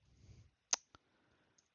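A new computer keyboard being typed on, a few sparse, crisp key clicks close by and quiet, with one sharp tap standing out, isolated with no talk.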